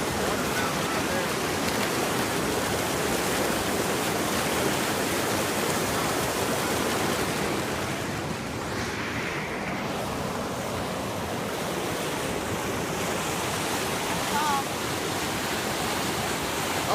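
Rushing water of Hurricane Creek flows steadily and fairly close, a broad continuous wash like a small cascade, with a brief voice in the middle and some light handling noise.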